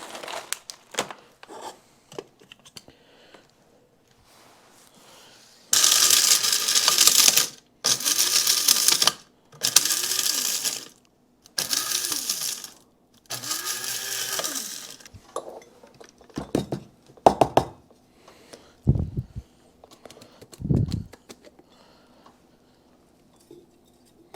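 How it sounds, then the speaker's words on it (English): An electric grinder grinding frankincense resin in five loud, buzzing bursts of a few seconds each, close by, followed by rattling and knocking as the resin is shaken and the grinder is handled. "So we're just going to put a little bit in at a time here so we don't jam up this grinder."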